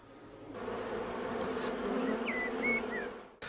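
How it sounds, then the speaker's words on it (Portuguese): Honeybees crowd the entrance of their hive, and a dense, steady buzz of many insects fills the air up close. It cuts off abruptly near the end. "Impacientemente as abelhas esforçam-se para entrar na colmeia"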